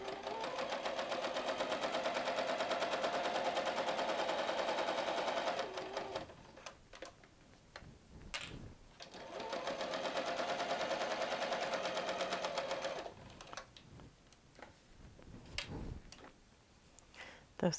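A sewing machine stitches around the edge of an envelope pillow's fabric in two long runs of fast, even mechanical chatter, with brief pauses, clicks and fabric handling between them.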